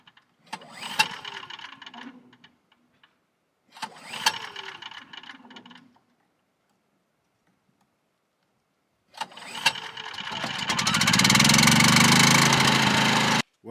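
A gas generator cranks twice with a rattling, ratchety starter pull, silence in between, then on a third try fires up and settles into a loud, steady running roar close by.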